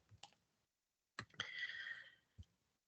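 Typing on a computer keyboard, a few sparse key clicks followed by a short burst of faster tapping, faint and close with no talk.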